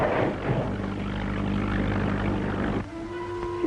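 A fixed-wing airplane's propeller engine drones steadily at half speed with a low, continuous hum. Near the end a higher sustained tone cuts in over it, with no voices.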